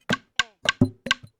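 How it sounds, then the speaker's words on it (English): A short Afrobeat percussion groove loop from a sample pack plays alone: five crisp, resonant hits in a syncopated rhythm, some with a pitched tonal body, each decaying quickly into clean silence. "next thing is this percussion groove I saw on the Killer Tunes pack"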